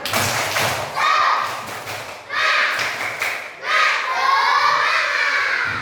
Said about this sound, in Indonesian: Supaya lebih semangat, tepuk semangat.